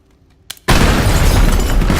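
After a soft click comes a sudden loud blast from explosive ammo in the destruction game Teardown, then a dense roaring rumble of debris that holds strong until the end.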